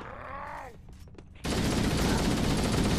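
Assault rifle from the Halo video game opens up in a sudden sustained burst after a brief moment of quieter game sound and a short voice, the rapid fire continuing loud to the end.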